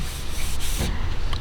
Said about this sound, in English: so you're just sanding the scratches